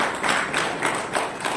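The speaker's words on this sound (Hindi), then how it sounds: "अरे बजाओ तालियां" Audience clapping at a talk on naturopathy and arthritis: a short, fairly loud burst of many hands in loose, rhythmic waves.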